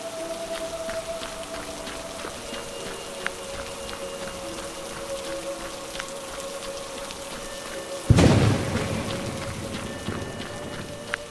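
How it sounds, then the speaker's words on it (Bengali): Heavy rain pours in a Bengali horror cartoon set at a cremation ground, a steady broadband hiss that suddenly swells with a loud burst and heavier downpour near the end. "এমন সময় আচমকা বৃষ্টির গতি বাড়ল। উফ, আবার বৃষ্টি।"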